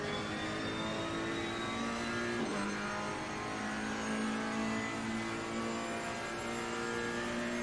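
Steady, close Ferrari GT3 race car engine drone in a racing video game at Bathurst, with shifting pitch and a quick gear change partway through, loud and continuous, no voices.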